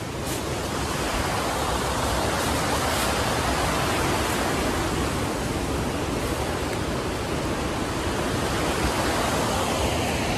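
A creek in the Ozarks rushes over big old rocks beside a camp spot, a steady, loud, close wash of water that runs unbroken throughout with no voices.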